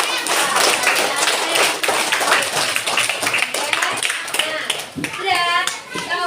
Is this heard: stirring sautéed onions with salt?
no